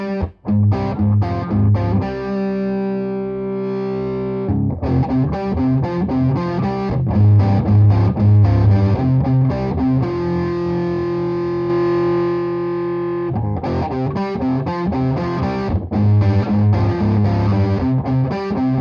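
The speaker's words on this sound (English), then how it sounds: "the OCD is definitely the better rhythm distortion" An electric guitar plays chugging rhythm chords and sustained notes through a Fulltone OCD distortion pedal, thick and loud, with short pauses between phrases and no talking.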